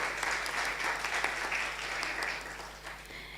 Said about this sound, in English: So a warm round of applause for Janet.